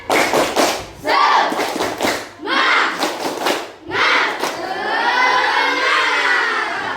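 A school class of students in an informatics lesson performs a rhythmic spirit clap, loud bursts of group clapping and chanted voices in a close classroom, ending in a sustained shout from the children.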